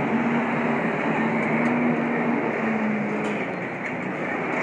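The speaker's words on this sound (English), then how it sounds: "My coffee comes in the sound of a compressor." Coffee machine running with a steady compressor-like hum and hiss, a dense continuous drone at moderate level throughout with no pauses.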